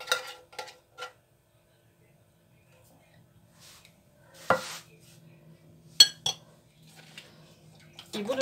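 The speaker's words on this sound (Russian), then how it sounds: "вот сейчас эту еще баночку сюда все хорошенько размешаю" Condensed milk being stirred into doughnut dough in a bowl, a spoon clinking against the bowl and a tin in a few short, sharp bursts between quiet pauses, with low background hum.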